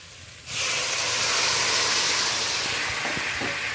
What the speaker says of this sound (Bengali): এই পর্যায়ে বন্ধুরা অল্প একটু গরম জল দিয়ে দেবো